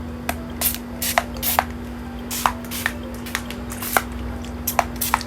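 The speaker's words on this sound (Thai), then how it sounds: "อันนี้มันเป็นแบบขวดสเปรย์น้ำแร่นะคะ แต่ว่าข้างในเป็นแอลกอฮอล์" Short, sharp hissing bursts of a mineral-water spray bottle filled with alcohol being pumped, about a dozen quick sprays in an uneven rhythm over a faint steady hum.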